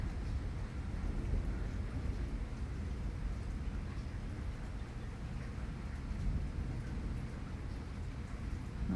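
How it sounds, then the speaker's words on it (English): Steady rainstorm with a dense, even wash of falling rain, broadband and continuous at a constant moderate level throughout, with no voices. "I love a good rainstorm."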